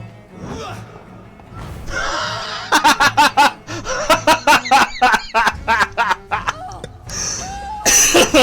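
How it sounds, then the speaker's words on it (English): A person breaks into a long coughing fit, with a rapid run of sharp, close, harsh bursts in an uneven rhythm, mixed with gasping breaths and laugh-like sounds. "I coughed so much I made myself lightheaded."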